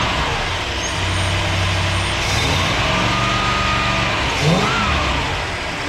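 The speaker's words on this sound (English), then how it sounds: "Let's see what happens when we rev it up." A Mopar 383 V8 with a swapped-in 4-barrel carburetor, fighting a bog, revs steadily up close, with a continuous loud engine drone and a brief rise in pitch near the end, no talking.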